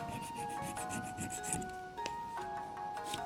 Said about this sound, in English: we'll use a very fine file on it and file the top off the bushing